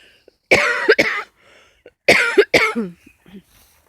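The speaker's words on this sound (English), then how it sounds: "I've got the cough of someone who smokes 60 a day" Two bursts of harsh, raspy coughing from a person with Covid, each a pair of hacking coughs, close to the microphone with quiet pauses between.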